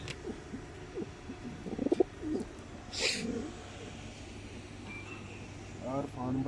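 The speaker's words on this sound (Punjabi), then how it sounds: "ਮਾਸ਼ਾਅੱਲਾ ਅੱਛਾ ਕਬੂਤਰ, ਪੰਜੇ ਨੇ ਰਫਾਨ ਭਾਈ" Pigeons kept by a fancier in Sahiwal give low, throaty coos in short bursts, close by. People talk over and between the calls.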